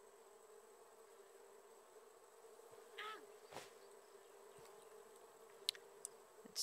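Bees from the survival game Raft buzz faintly in a steady, quiet drone, with a couple of brief sharper clicks and swells near the middle and end.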